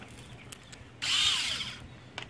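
A handheld power tool spins out a bolt from the window regulator of a Honda S2000, one short whirring burst of about half a second, close and fairly loud, preceded and followed by faint clicks.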